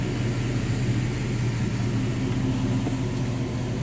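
A 2009 Chevrolet Silverado with a 12-inch lift and large tires idles with a steady low rumble, loud and close, with no speech over it.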